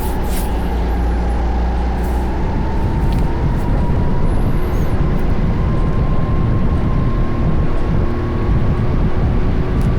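A rental go-kart engine drones steadily at high speed around an indoor racing track, a loud continuous buzzing whine that rises slightly in pitch as the kart accelerates, with no talk over it.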